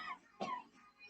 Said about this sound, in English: That cough so hard, man.